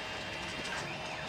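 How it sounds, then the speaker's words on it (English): A 3D printer running a print job gives a steady, close mechanical whir with faint gear-like ticking that holds evenly throughout. "There goes the printer."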